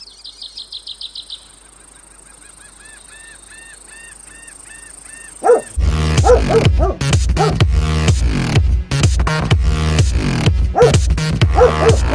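Dogs bark loudly and repeatedly in a video game map, following an earlier stretch of honking, goose-like calls and whistling tones. Dense overlapping barks fill the second half.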